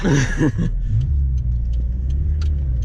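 A Toyota MR2 runs its engine with a steady low rumble and a hint of revving, close up throughout; a voice talks briefly at the start before the engine carries on alone.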